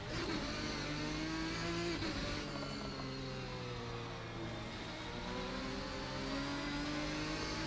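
Race car engine in the Assetto Corsa racing game, driving the RSS GT mod at the Austrian A1 Ring circuit, revs loudly and continuously, its pitch rising and falling through gear changes for the whole stretch with no talking.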